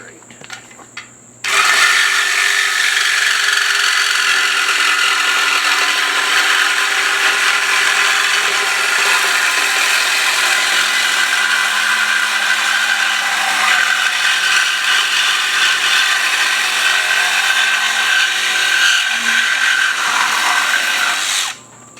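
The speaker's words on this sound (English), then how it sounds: "That's what the grinder's for." Grinder cutting through a stock motorcycle exhaust pipe, a loud, sustained high-pitched whine that starts abruptly and holds steady for about twenty seconds before cutting off, close by and with no talk.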